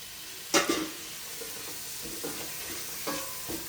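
Tomato pieces sizzle steadily in a hot pan while a spatula stirs them for paneer pulao, with a few sharp scraping strokes over a constant frying hiss.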